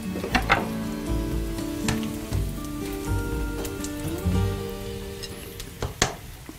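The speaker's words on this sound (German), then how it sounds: "jetzt tun wir den Speck hinein in die Pfanne noch" Bacon and potatoes for Tiroler Gröstl frying in a pan, a close, steady crackling sizzle with stirring clatters and a couple of sharper pops, with no talking.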